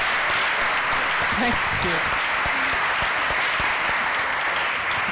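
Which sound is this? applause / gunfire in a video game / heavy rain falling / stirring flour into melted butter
applause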